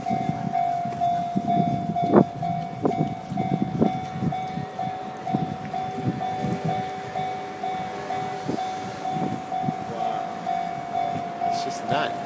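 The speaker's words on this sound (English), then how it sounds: "So get this train coming from this way, it looks like." An Arakawa Toden streetcar in Tokyo passes close by, a steady hum and tonal whine under rattling, clacking wheel and track knocks, with street ambience throughout.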